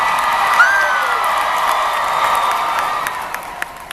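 A crowd watching a horsemanship demonstration cheers, whoops and claps for a horse's canter, a continuous roar of voices with scattered sharp claps, fairly loud and spread out like a large arena audience.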